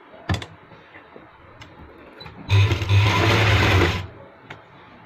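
A sewing machine stitches a piping seam on a sleeve in a single short burst of steady mechanical whirring, close and fairly loud, with a few small ticks and clicks before it.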